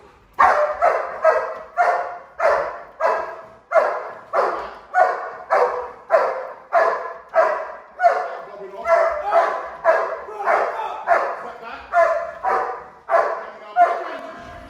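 A K9 dog barking repeatedly during bite training on a prosthetic arm, about twenty sharp, loud barks in a steady rhythm, close and clear, with the barks dominating and little else heard.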